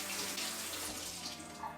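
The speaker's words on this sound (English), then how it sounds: "So we're going to run a little bit of water in here." Lukewarm water runs from a kitchen tap into a bowl for proofing yeast, a brief soft steady splashing stream with no talking.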